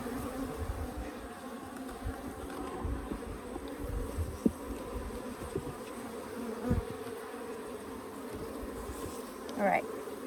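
Honeybees buzz around a hive in a steady, moderately faint drone with a few individual bees passing close, and no one speaks.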